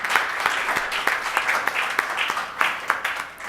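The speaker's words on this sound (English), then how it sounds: "So one applause for all of them for their help." Audience applause at a youth training summit election session, a steady patter of many hands clapping at moderate loudness, with scattered louder claps throughout.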